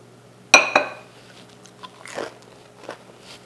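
Crunchy vegan calamari made from mushroom, dipped in marinara sauce and bitten into: two sharp crisp crunches up close, followed by softer chewing and faint clinks of dishes.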